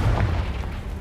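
A Confringo blasting spell erupts in Hogwarts Legacy as a single deep, rumbling boom that rolls on and fades over about a second.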